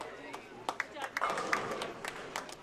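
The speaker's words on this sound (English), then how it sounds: "It's a nice round of applause" Scattered hand claps from a small crowd at a youth bowling event, a loose run of separate claps rather than a full ovation, moderately loud over a murmur of voices and hall noise.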